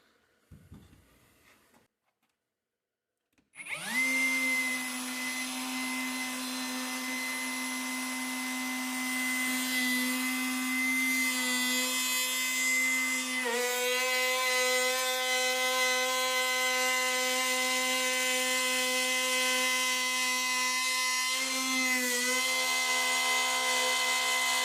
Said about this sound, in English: So now we're going to replace our router, plunge down, and finish the cut.